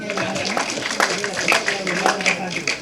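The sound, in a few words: audience applause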